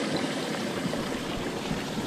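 Cold water at about 8 degrees runs through a fish hatchery box for lake trout fry, a continuous close trickling and rushing flow with no voices.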